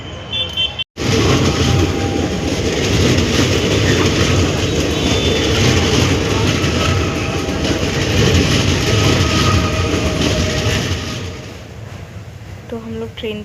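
Train rolling over the Simaria rail bridge, a loud, dense rumble and clatter heard from inside a carriage, steady for about ten seconds before easing off, with a brief cut near the start and talk faintly at the end.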